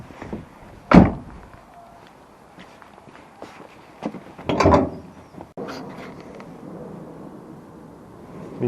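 Bonnet of a Renault Mégane 3 being released and raised: a sharp mechanical clunk of the catch, quiet handling noise, then a second louder clatter as the lid lifts, with fainter rattles after, close by and without talk.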